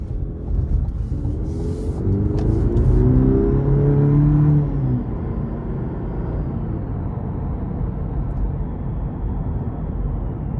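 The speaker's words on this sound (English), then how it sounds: "let's go ahead and take the CT4 V-Series out on the road for a quick test drive" A 2023 Cadillac CT4-V Series on a road test drive, its engine rumbling loud and steady as the car accelerates, with a rising tone for a few seconds before settling into a constant drone.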